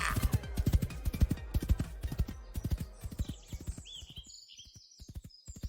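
A horse's hooves clip-clop in a rapid, steady rhythm before slowing, followed by a high neigh or whinny; the hoofbeats are close and clear with no talking.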